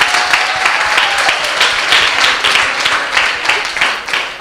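Audience applause at a community Q&A event with elected officials: a steady, dense wash of clapping from a crowd that fills the whole clip while a voice speaks over it.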